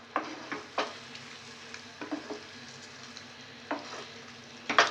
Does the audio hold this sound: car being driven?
no